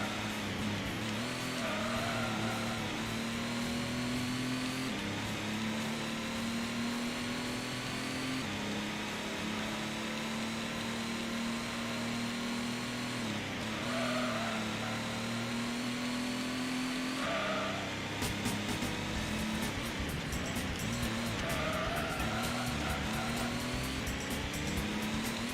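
A Corvette in Gran Turismo 1 races with a loud, sustained engine drone that climbs and dips through gear shifts, steady and close throughout with no talking.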